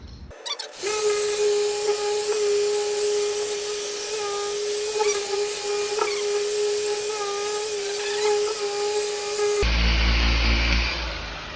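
A test spot being sanded with 800-grit paper during a restoration, likely by a power sander, giving a steady, loud, close whine that runs almost the whole clip, then cuts off near the end.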